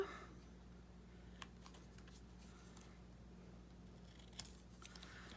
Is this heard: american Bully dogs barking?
no